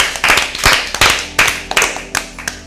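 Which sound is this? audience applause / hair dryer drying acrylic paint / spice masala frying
audience applause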